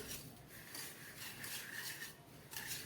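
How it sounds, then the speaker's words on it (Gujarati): Jaggery being stirred into a glassful of water in a vessel for Gujarati malpua batter, a steady rasping, rubbing scrape that repeats in short strokes, close and moderately loud with no talking. "હવે આપણે ગોળને સારી રીતે મિક્સ કરી દેવાનો છે."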